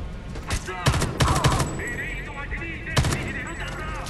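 Gunfire from the video game Homefront: The Revolution arrives as several sharp, close bursts in quick succession, pausing, then one more volley, with ringing tonal effects in between.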